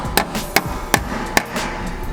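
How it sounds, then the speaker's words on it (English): Four sharp hammer taps seat a brake line clip on a 2017 Subaru WRX STI at a steady pace, close and fairly loud, with light clatter between strikes. "So we're just gonna hammer it in a little bit to make sure it's all the way in."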